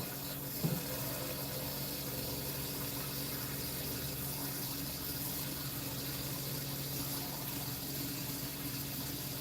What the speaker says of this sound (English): I'm going to add enough water to this pot because I'm going to put it to a boil.